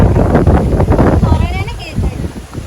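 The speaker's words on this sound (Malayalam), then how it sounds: "കാറ്റൊക്കെ അടിക്കണ്ട്" Wind rumbles and buffets against the microphone, loud and steady, with a voice briefly audible in the background.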